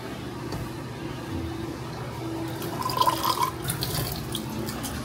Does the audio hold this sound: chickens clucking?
no